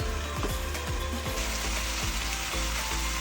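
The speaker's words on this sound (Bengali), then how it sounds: "এবারে এটাকে ভালো করে নাড়চাড় করে অল্প একটু ভাজা ভাজা হতে আমরা দেব।" Mushroom pieces frying in oil for an aloo mushroom curry, a steady close sizzle with short scraping stirs of a spatula recurring across the pan, no voices.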